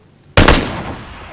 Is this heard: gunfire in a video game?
yes